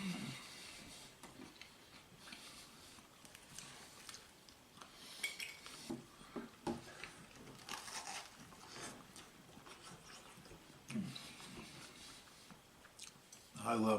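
Chewing a meatball slider topped with sauce, Parmesan and mozzarella: faint, close mouth sounds mixed with light clinks of cutlery and dishes, with a soft voice at times.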